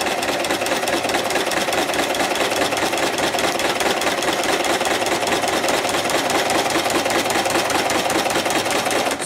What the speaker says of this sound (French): on coud tout le long jusqu'au bout